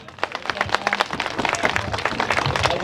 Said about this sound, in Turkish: kocaman bir alkış istiyoruz